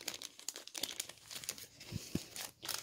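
Close, continuous crinkling and rustling of translucent, plasticky paper ephemera being handled, with crisp crackles and small tearing-like bursts, quiet and without talk.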